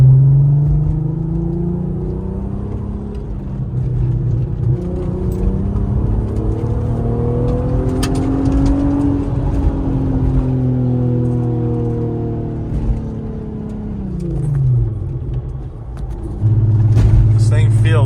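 An MK4 Jetta wagon with a Cup kit and rear sway bar driving on a favorite road, its engine rising and falling in pitch through gear changes and acceleration, with a steady interior rumble and speech over the top.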